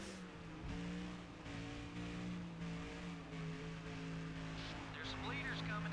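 Race car engines in a racing video game, a steady multi-engine drone of a pack on track under continuous commentary, with a brief rising whine near the end.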